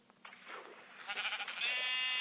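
A sheep bleats in Minecraft Pocket Edition, a short wavering game-style baa rising into a sustained cry, fairly clear and alone over a quiet background.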